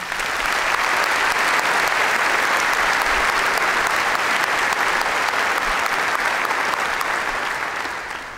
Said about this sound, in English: Please join me in a round of applause for all of our winners.